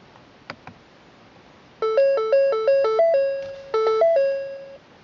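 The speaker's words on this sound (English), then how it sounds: "This is a chime test." A 2012 Ford Focus instrument cluster running its chime test, playing a clear melodic sequence of electronic ding tones in a repeating pattern inside the car, loud and close after a couple of faint clicks, with no talking.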